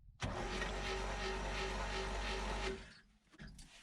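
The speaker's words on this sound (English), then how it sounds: "So I have to hold the clutch down to get it to turn over" The engine of a 1965 Chevy G10 van that sat for 25 years cranks over on the starter with the clutch held down, a steady, rhythmic churning for nearly three seconds before it stops.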